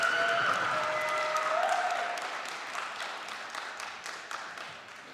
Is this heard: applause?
yes